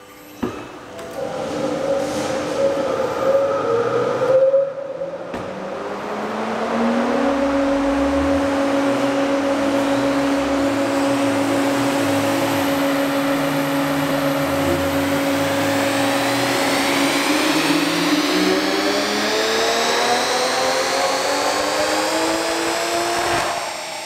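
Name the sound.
Toyota GR Supra engine running on E85/E50 with big turbo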